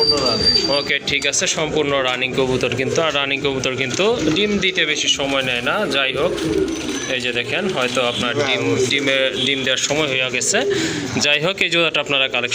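Local and foreign pigeons offered for sale coo in dense, overlapping throaty calls that continue throughout, with people talking nearby.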